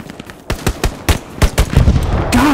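Gunfire rings out in the World War II shooter game Hell Let Loose: a rapid string of close, sharp rifle and machine-gun shots, about a dozen cracks in two and a half seconds, with no talk.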